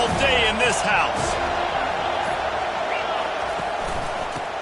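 Loud roar of a packed college football stadium crowd during a Florida State versus Notre Dame night game, a dense continuous wash of voices with whistling near the start, gradually easing slightly.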